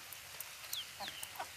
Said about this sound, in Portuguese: Aqui tem umas galinhas presas, que eu fiz um galinheiro muito aqui